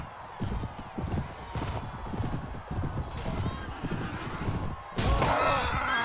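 A horse in the video game Mount & Blade Warband, Floris mod, gallops with rapid, rhythmic hoofbeats close by, then a loud whinny bursts out near the end over the continuing clatter.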